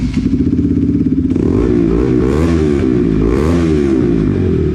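A Bajaj NS200 motorcycle with an aftermarket exhaust and the dB killer removed idles, then revs twice, loud and close, with a raspy crackling rise and fall on each blip.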